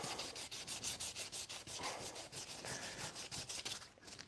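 Axe blade stroked over 1200 grit wet and dry paper: a rapid, regular series of close scraping rubs, roughly four strokes per second, fairly quiet and continuous, with no talking.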